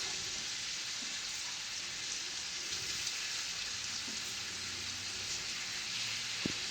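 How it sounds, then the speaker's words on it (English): Shrimp and onions sizzle steadily in a searing-hot skillet, a dense, even frying hiss with faint pops and no talk. "We're going to drop them into a searing skillet already, and then we're going to drop our onions."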